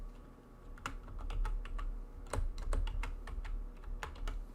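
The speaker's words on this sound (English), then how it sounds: "Just typing up something." Fingers type on a computer keyboard in quick irregular clusters of clicks over a steady low hum, close and moderately loud, with no one speaking.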